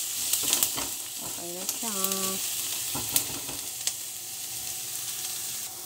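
Mince pork with carrots and potatoes frying in a pan while being stirred, a soft steady sizzle with scattered scraping clicks of the utensil; a voice talks briefly over it.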